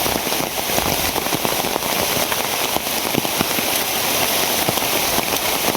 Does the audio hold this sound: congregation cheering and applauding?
no